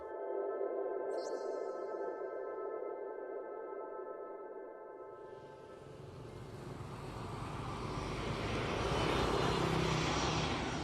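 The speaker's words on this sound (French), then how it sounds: "un avion en provenance de Hong Kong atterrit à Hanoï, la capitale du Vietnam" A passenger airplane from Hong Kong landing at Hanoi gives a steady engine drone with tonal hum that swells into a broad, loud roar as it passes close.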